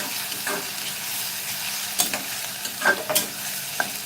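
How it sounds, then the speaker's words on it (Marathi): Onion sautéing in a pan for a home-style fresh jawla (tiny shrimp) bhaji: a steady close sizzling hiss runs throughout, broken by several sharp spatula clinks and scrapes as the pieces are stirred, with no talking. "कांदा चांगला परतवून घ्यायचं आहे आपल्याला"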